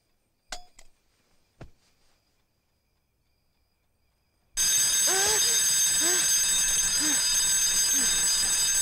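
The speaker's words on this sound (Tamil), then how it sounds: "கரெக்ட்டா 5 மணிக்கு அலாரம் அடிக்கும்ல" An alarm clock bursts into loud, continuous ringing after a few seconds of near silence broken by faint knocks. Muffled voice sounds carry underneath the ringing.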